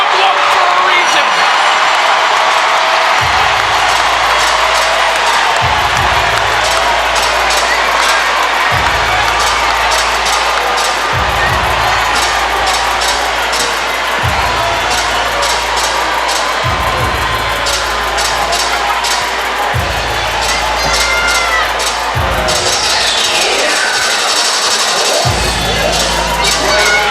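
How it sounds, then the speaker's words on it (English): A boxing arena crowd in Flint roars and cheers after a Claressa Shields fight, a loud continuous din of shouting, whoops and clapping with a commentator talking over it and a rhythmic thumping beat underneath. "An unforgettable night for the city of Flint. They've got a lot to cheer about right now."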